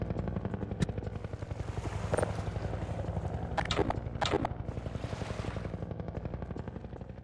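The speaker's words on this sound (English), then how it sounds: "Oh, finally take down the helicopter." Rotor thrum of an attack helicopter in the Half-Life 2 PC game runs continuously beneath sharp bursts of gunfire aimed at it, a few quick shots standing out over the steady droning engine.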